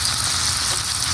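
Pork liempo (pork belly) sizzling and frying in a pan, a steady, dense crackle of hot fat holding level and close throughout the short stretch, with no voices.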